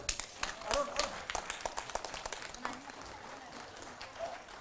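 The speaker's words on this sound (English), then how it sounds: "Big round of applause for Thongam Arun." Applause at a Lions Club annual district conference in a convention hall, a moderate burst of clapping from the audience, faint and somewhat distant, with some talk mixed in.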